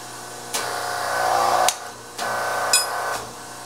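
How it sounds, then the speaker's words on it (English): A Whitney Model 730 portable hydraulic punch press punching a hole in a metal bracket: a steady hydraulic motor hum swelling over about a second, a sharp clunk, then a second pump cycle ending in another click, close and alone. "We will place our bracket where we want it, hit the down button, just like that."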